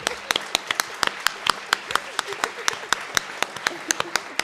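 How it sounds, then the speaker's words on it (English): An audience at the FilmEU Summit 2022 launch event claps for several seconds, a moderate spread of sharp hand claps with a few louder ones standing out, while a voice speaks over it. "we deserve a clap"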